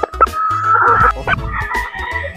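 A young Golden Boy Sweater gamefowl rooster, about four months old, gives loud close clucks and a strained, breaking crow, with a few sharp calls around it.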